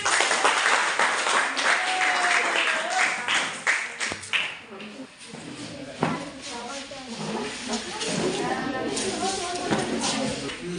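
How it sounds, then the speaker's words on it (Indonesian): A classroom of students applauds after a group presentation, steady clapping across the whole stretch mixed with chatter and voices from the room. "Ya, tepuk tangan."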